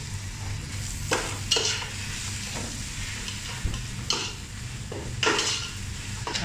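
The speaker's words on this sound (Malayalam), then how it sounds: "ഇതിൻ്റെ ആ പച്ചച്ചോയ ഒന്ന് മാറുന്നത് വരെ നമുക്ക് നന്നായിട്ടൊന്ന് വഴറ്റിയെടുക്കാം." Ginger garlic paste sautéing in a pan for Malabar chicken biryani, a low steady sizzle broken by several sharp scrapes and clinks of a spoon stirring against the pan, close and alone.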